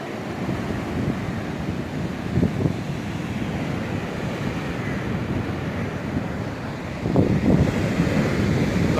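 Stormy sea waves roll onto Yalta beach in strong wind, a constant windy rush with two louder surges of surf breaking, heard from close range without any talk.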